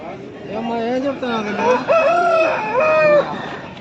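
At a busy Sunday market in Pileru, a large rooster crows close and loud in one long, wavering call, with market noise beneath.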